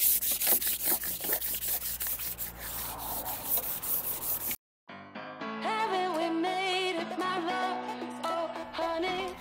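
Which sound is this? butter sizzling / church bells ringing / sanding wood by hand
sanding wood by hand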